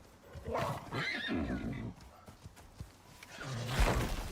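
Horse neighing in the survival video game Icarus, several loud whinnies with clip-clop hooves, the calls rising and falling across the moment.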